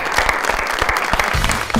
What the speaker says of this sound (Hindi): वाह भाई, तालियां जी।